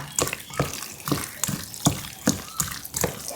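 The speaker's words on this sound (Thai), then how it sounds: "น้ำนิดหน่อยนะคะ น้ำเปล่าค่ะ" Plain water is added to raw chicken being kneaded by hand, making rhythmic wet squelching and splashing strokes about every half second, close and moderate, with no talking.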